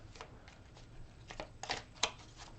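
Soft papery riffles of tarot cards being shuffled in short bursts, a couple of sharper flicks near the end, fairly quiet and close.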